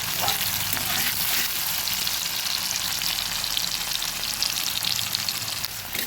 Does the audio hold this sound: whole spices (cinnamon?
yes